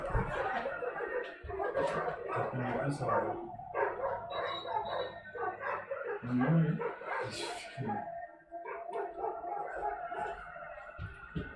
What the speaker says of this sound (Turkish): Köpekler tezahürat yapıyor.